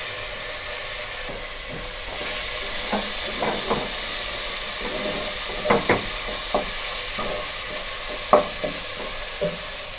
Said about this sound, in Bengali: সামান্য একটু জল দিয়ে মশলাটা কষিয়ে নেব।